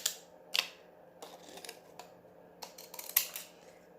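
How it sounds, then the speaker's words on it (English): Scissors snip a piece of paper card for a handmade greeting card, making a few sharp, close cuts separated by soft rustling in a quiet room. "I'm going to cut right underneath this piece here"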